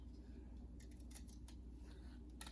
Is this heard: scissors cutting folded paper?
yes